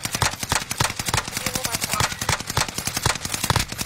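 Video game gunfire crackles in a fast, steady automatic stream of sharp, loud shots for several seconds, close and continuous with no talking over it.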